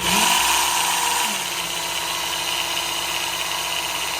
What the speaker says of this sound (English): I'm going to sharpen a couple little knives and play around with it. So I've got the coarse belt on it now.